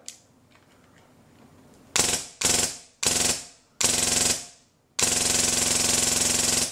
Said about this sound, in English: Watch the nozzle as I fire.